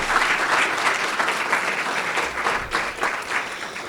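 A loud, dense round of applause fills a school board meeting honoring educators, a steady crowd clapping that continues without a break.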